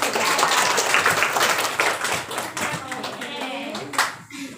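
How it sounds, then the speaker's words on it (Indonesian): A classroom of students applauding a group during a practice teaching lesson, steady close clapping that gradually loosens, with voices mixed in toward the end. "Tepuk tangan untuk kelompok"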